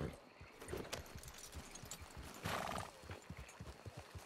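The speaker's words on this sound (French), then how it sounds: "Ah, c'est un cheval." Horse hooves clip-clop steadily at close range in a western video game, joined by a brief whinny, over a background of game ambience with some talk.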